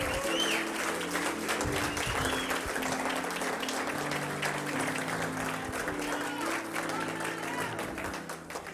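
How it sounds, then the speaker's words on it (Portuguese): A church congregation applauds in a sustained, dense wave of clapping that fills the room at full strength and tapers slightly toward the end, with a voice faintly audible within it. "Se é para Jesus, aplaude."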